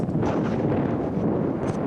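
Steady, loud wind buffeting a microphone on top of a high school football stadium press box in Washington, Kansas, a constant rumbling roar with no breaks.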